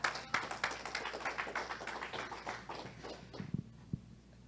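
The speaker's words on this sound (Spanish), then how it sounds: "Puede darle un aplauso al Señor." A church congregation applauding, a steady patter of many hands clapping that thins out and fades into a few last scattered claps.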